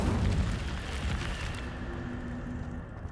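Incendio fire spell cast in Hogwarts Legacy: a loud whooshing, roaring burst of flame that crackles and gradually fades into a low rumble over a few seconds.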